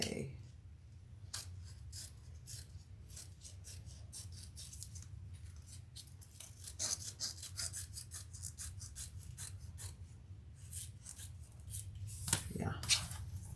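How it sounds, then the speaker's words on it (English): Lining is trimmed from a leather waist pack: quiet, close snipping and rubbing strokes repeat in an irregular run, with soft handling noise and a louder scrape near the end. "So now I need to trim off a bunch of the lining"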